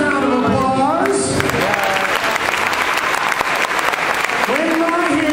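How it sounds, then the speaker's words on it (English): Audience applause at an after-prom hypnotism show, a continuous wash of clapping under amplified talk from a performer's voice at the start and end. "Nice round of applause."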